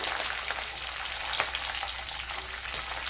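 Garlic cloves sizzling in hot oil in a pan for a Kerala small-onion chicken, a steady close crackle and hiss throughout with a few brief louder pops.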